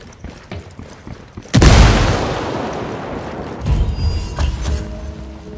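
A frag grenade detonates in the video game Ghost Recon Wildlands: one sudden loud blast followed by a long, rolling rumble that fades, then swells again with secondary booms and debris noise.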